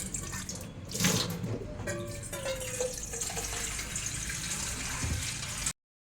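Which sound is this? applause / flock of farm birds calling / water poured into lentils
water poured into lentils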